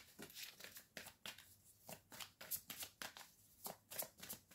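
A deck of cards is shuffled for a card reading in a series of quick, crisp riffling bursts that repeat steadily at close range, with no other sound.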